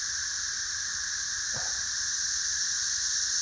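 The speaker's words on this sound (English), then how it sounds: "Those cicadas, they're a lot more numerous than they were before." Cicadas buzzing across a pasture, a steady high-pitched drone holding at constant loudness throughout, with a brief low thump partway through.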